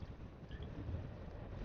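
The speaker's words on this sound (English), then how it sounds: "it is pretty breezy, so it's going to be a headwind" Breezy headwind rushing and buffeting against the microphone during an electric scooter ride, a steady low roar with no speech.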